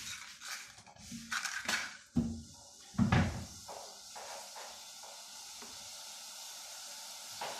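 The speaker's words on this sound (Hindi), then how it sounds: "ये अब इसमें बॉयल आ रहा है।" Sugar syrup for shakarpara comes to a boil in a pan: soft, quiet bubbling and sizzle with a few sharp bursts of stirring and utensil clatter early on, then a calmer simmer.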